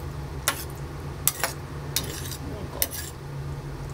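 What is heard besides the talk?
stir-frying in a pan while cooking mapo tofu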